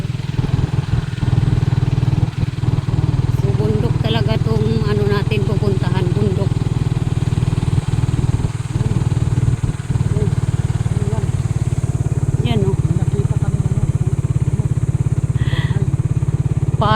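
A motorcycle riding alongside drones steadily nearby for the whole stretch, with road noise and a few faint voices underneath, on a road near Ternate, Cavite.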